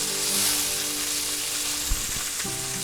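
Pork chops fry in a pan just after being flipped, giving a strong, continuous sizzle with a few soft knocks of utensils against the pan.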